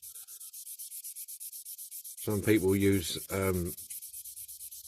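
A sanding sponge rubs back and forth across the windscreen of a 1968–74 Dinky die-cast Jensen FF model car. The strokes are quick, even and close, and someone talks briefly partway through.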